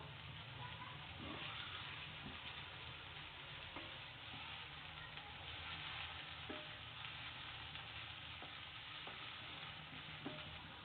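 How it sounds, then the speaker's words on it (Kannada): Tomato masala sizzling steadily in oil in a pan while cooking avrekalu, a continuous soft crackle and hiss with occasional light stirring taps, no voices. "ಈಗ ಇದು ಟೊಮೊಟೊ ಮೆತ್ತಗಾಗೋವರೆಗೂ ಫ್ರೈ ಮಾಡ್ಕೋಬೇಕು"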